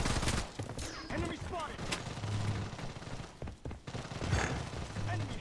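Gunfire in the Bloodstrike shooter game, dense bursts of rapid shots and heavier impacts crackling through most of the stretch, with players talking over it.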